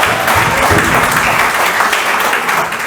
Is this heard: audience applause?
yes